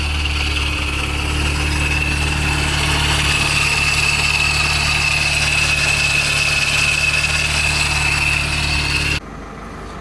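Honda S2000 engine idling roughly with a steady low drone and faint high whine, close and loud, cutting off abruptly near the end.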